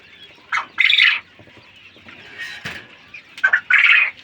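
King quail birds in a cage give short, bright chirping calls in separated bursts, with soft rustling and scratching between them.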